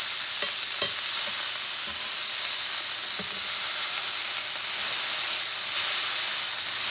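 A camel burger patty fries in a pan with a steady, close, dense sizzle, broken now and then by faint scrapes and light knocks, and no one speaks.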